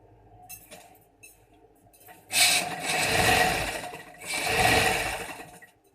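A sewing machine stitches a kurta placket in two sustained bursts of whirring, each lasting over a second, after a quiet pause; the runs are close and fairly loud, with no talking.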